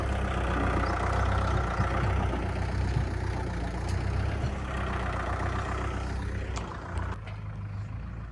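A tractor's engine runs in a steady, moderately loud drone heard from the seat, continuous throughout with slight variations and a few brief clanks near the end.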